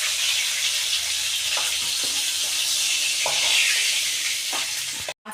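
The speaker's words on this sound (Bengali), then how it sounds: "তেলে আমি নুন আর হলুদ দিয়ে ইলিশ মাছের মাথাগুলোকে ভালো করে ভেজে নেব" Hilsa fish heads frying in hot oil with salt and turmeric give a loud, steady sizzle with occasional pops and utensil knocks, close up, then a brief dropout near the end.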